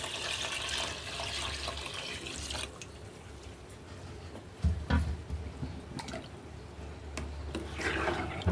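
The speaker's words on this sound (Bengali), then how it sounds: "এই যে আমি খিচুড়ির জন্য পানিটা দিয়ে দিলাম।" Water is poured into a cooking pot for khichuri, a soft splashing and trickling at the start. Quieter kitchen clatter and drips follow, all faint, with no talking.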